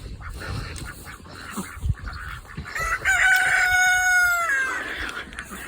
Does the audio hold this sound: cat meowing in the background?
no